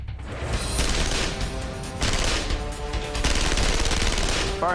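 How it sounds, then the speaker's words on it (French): An MP5 submachine gun firing on full automatic, loud rapid bursts of shots in a continuous rattling stream with brief pauses between strings, no talk over it. "Le mode automatique du MP5 est très intéressant. Je peux tirer rapidement."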